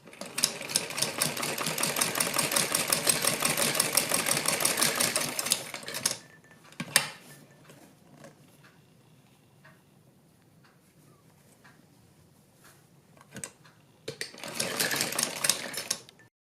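A sewing machine runs in a fast, steady stitching burst for about six seconds while sewing a sleeve. A quiet stretch follows with a few clicks and handling noises, then the machine starts a second short run.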